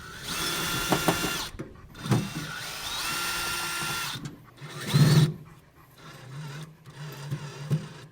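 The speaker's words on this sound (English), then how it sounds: "8 screws that we're about to remove, and we're gonna take this plate off and see what's going on underneath" A power drill backs out screws from a grease-caked plate, its motor whirring in short bursts with gaps and clicks between them, close by with no talk.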